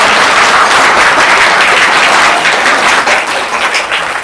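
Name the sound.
studio audience applause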